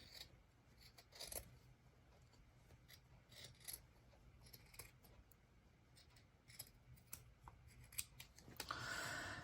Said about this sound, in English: So then I'm going to just cut this out.